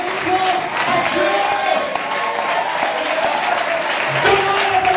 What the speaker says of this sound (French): Donnons un applaudissement à Dieu.